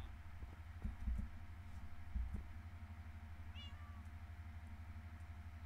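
A cat in the Minecraft video game gives a single faint meow over a low hum, with a few soft thumps earlier.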